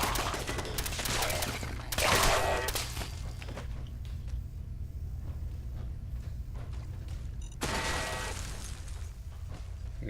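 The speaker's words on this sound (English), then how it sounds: "now the turrets are typically not hostile against us. They're trying to shoot down ghouls." Automated turrets in Fallout 4 fire at ghouls in rapid bursts of gunfire, a dense volley early on, another burst near the end, with lower rumbling in between.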